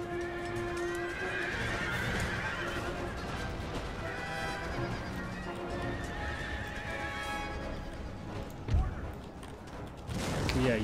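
Horses neigh and whinny amid clip-clopping hooves during a cavalry clash in the Empire: Total War battle game, with repeated calls over a dense, busy battle din and occasional crashes.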